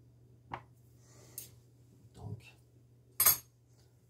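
Light clinks and scrapes of a small spoon whisking sourdough starter in a small container, a few sparse taps spread out over a steady low hum, quiet and close.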